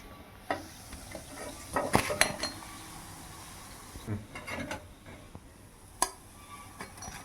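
Banana flower and onion vadas deep-fry in hot oil with a soft continuous sizzle, broken at intervals by sharp clinks and scrapes as they are stirred and turned. No one speaks.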